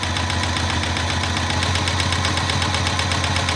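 A sewing machine stitches a quilt border, its motor running in a steady, continuous mechanical drone with a fast rhythmic pulse, close and fairly loud throughout, with no talking.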